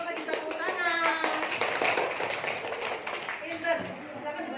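Schoolchildren in a primary-school classroom clap together for group 4, a fast patter of small hands close by, mixed with kids' voices talking over it.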